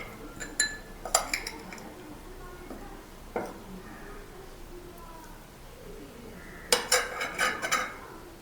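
Spoon clinks and scrapes in a pan as spice paste with jaggery and salt is mixed for Khanavali-style stuffed brinjal: a few sharp metallic taps early, a quieter middle, then a quick cluster of clinks near the end.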